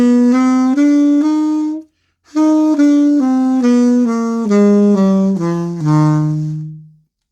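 A run of separate melodic notes plays a major bebop scale with a chromatic passing tone between the fifth and sixth degrees. The notes are bright and close, with a short break partway through, and the last low note is held and fades. Phrasing follows a jazz articulation style.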